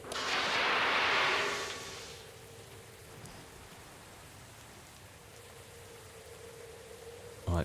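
Torpedo launching from a warship in Victory at Sea Atlantic: a loud rushing whoosh of noise at the start fading into a faint steady hum, with a brief thump at the end.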